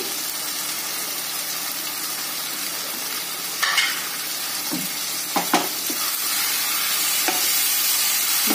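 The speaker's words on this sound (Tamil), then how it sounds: "நல்ல பச்சை வாசனை போக வரைக்கும் இதையும் நல்லா வதக்கிக்கங்க" Handfuls of fresh mint and coriander leaves sautéing in a pan for chicken dum biryani, a steady soft sizzle with occasional clinks and scrapes of a spoon stirring.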